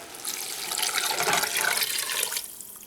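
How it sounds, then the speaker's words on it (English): Chicken stock pours into a cooking pot, a steady splashing gush that swells and holds for a couple of seconds before trailing off. "Now I'm going to add 4 cups of chicken stock"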